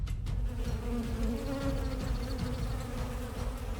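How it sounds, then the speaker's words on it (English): A swarm of wasps drones in a thick, steady buzz that holds for several seconds, layered with faint wingbeat textures and no voices. "a swarm of wasps just comes in"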